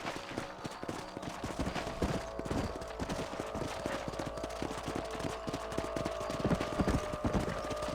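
Horse hooves clip-clop steadily while riding across a ranch property in Red Dead Redemption, a continuous close rhythm of hoofbeats with faint background game ambience and no talk.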